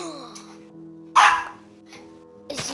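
A dog barking indoors, a few sharp, close barks spaced apart over quiet background music and game sounds, with no speech.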